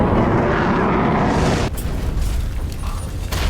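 A building under fire explodes in a loud, continuous booming roar that thins into a rumbling, crackling tail, heavy and close throughout.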